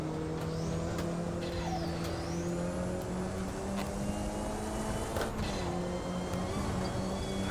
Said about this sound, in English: Oh, the Porsche is going around again.